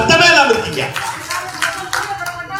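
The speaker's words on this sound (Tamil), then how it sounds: "கைதட்டுங்க சார்." An audience at a Tamil stage gathering claps in a scattered burst that thins out, with a voice speaking loudly over the start of the applause.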